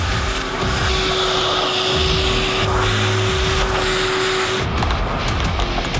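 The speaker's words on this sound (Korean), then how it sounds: "스팀기로 우선 묵은 때를 불린 후 청소기 작업을 진행하는데" A vacuum cleaner roars steadily during move-in cleaning of a newly built apartment, its loud continuous drone holding for several seconds before cutting off near the end, with no talking.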